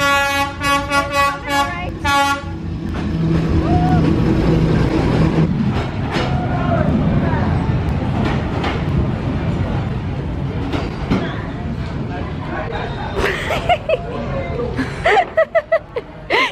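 A train rumbles past at length in North Vietnam, loud and close, with a horn toot near the start and clattering wheels, voices briefly audible around it.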